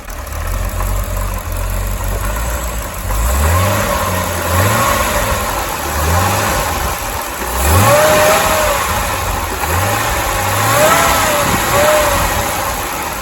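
A Chevrolet Corvette C6 ZR1 runs on its first startup after a rebuild, a loud steady idle with repeated throttle blips that rise and fall in rhythmic revs, close up and with no talk.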